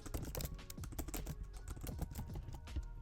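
Python code is typed on a computer keyboard in a rapid, uneven run of close, soft key clicks that continues steadily throughout.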